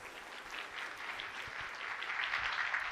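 Soft, distant applause ripples through an audience at a chief minister's employment day event, a steady faint patter of many hands that swells slightly toward the end.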